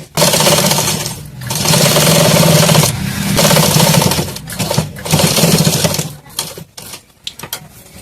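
A sewing machine stitches a katori blouse, running in loud sustained mechanical bursts with brief pauses between runs and a stuttering, intermittent finish, with no voices.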